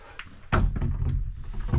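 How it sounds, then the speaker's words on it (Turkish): Someone tries to open a stuck door at a village mosque in the rain, heard as a close, heavy thump followed by a rattling, straining door noise that runs on for over a second. "Bu açılmayan bir kapı."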